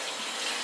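Cold tap water runs steadily over a thick salmon fillet from Walmart, a close, continuous rushing splash with no talk.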